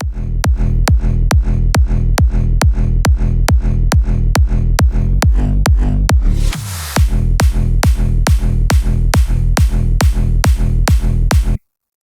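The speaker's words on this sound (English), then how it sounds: "So now that kick hits a little harder." An electronic music drop is driven by a punchy pitch-automated sub kick hitting in a steady rapid pulse. A brief sweeping break comes in midway, then the loud kick pattern resumes before cutting off abruptly at the end.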